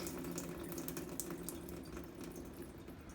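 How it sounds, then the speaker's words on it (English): Water trickles in a thin, steady pour as it is drained off strawberry seeds and fruit pulp, a soft continuous splash with no talk over it. "just pour off the water real slowly so don't pour out the seeds"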